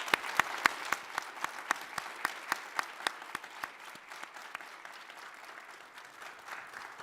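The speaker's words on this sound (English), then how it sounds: "giving another round of applause for those incredible remarks" Small audience applauding at a public health panel, distinct individual claps ringing out in a fairly regular rhythm, quiet and thinning as it fades.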